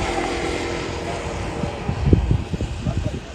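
A DJI agricultural drone flies over a rice farm with a steady, broad rotor whir that holds throughout, while low rumbling thumps and handling noise rise in the second half.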